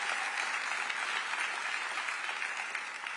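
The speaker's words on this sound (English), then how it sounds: "oh yes, please applaud that." An outdoor crowd at an Olympic flag ceremony at LA City Hall applauds in a soft, distant, continuous patter of clapping that stays even throughout.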